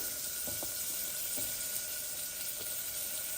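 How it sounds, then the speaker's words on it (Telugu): Chopped carrot, beetroot, cauliflower, potato and peas sizzling in melted Amul butter in a pan, a steady close hiss of frying with a few faint clinks. "బటర్ మెల్ట్ అవుతున్నప్పుడు మనం కట్ చేసి పెట్టుకున్న కూర ముక్కలు, క్యారెట్, బీట్రూట్"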